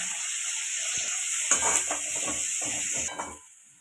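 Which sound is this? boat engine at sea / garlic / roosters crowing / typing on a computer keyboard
garlic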